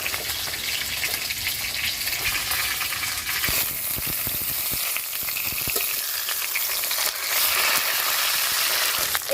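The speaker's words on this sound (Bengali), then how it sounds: "মাঝারি আঁচে মাছটা ভেজে নিতে হবে" Fish fries in oil over medium heat with a dense, steady, loud sizzle and crackle that runs throughout, broken by a few brief clatters partway through.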